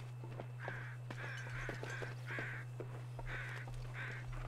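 Crows caw in The Long Dark, roughly six harsh calls in an uneven series, fairly distant and soft over a steady low hum.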